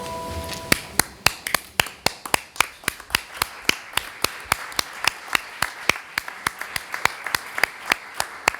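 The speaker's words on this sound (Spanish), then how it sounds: "Ahora le aplaudimos." Applause at an academy reception in Seville welcoming a new member, sharp, crisp claps landing in an even, rhythmic unison beat, close and prominent throughout.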